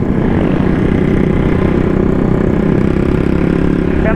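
Keyway CR152 scrambler motorcycle engine droning steadily while riding, a loud, constant low rumbling hum close by with no change in pitch and no talking.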